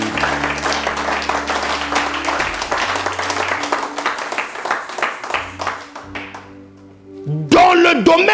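Congregation applauding during a church service to acclaim the Lord, a steady wash of many hands clapping with music-like sustained tones underneath, fading briefly before a louder burst at the end.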